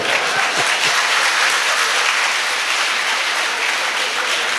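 A college audience at a comedy show applauds in a dense, steady wash of clapping that carries evenly throughout without a break, with a faint murmur of voices underneath.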